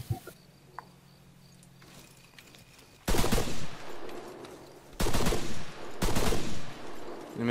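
Gunfire in the video game ARMA 3 follows a quiet stretch of faint ambient background. Three loud bursts of rapid automatic fire come close up, the first lasting nearly two seconds and the others following shortly after.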